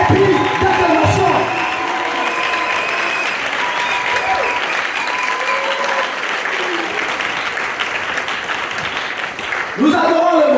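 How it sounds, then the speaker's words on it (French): A church congregation breaks into loud, sustained applause and cheering, a dense continuous clapping roar that holds for several seconds and swells again near the end. "le peuple doit acclamer Dieu ce matin par des acclamations"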